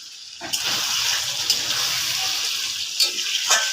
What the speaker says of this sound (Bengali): তো ঢেকে ঢেকে মটনটাকে ভালো করে সিদ্ধ করে নেব